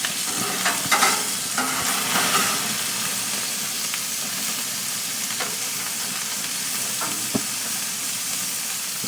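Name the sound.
burgers sizzling on a gas grill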